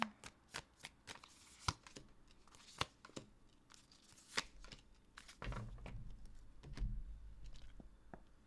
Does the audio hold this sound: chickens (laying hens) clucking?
no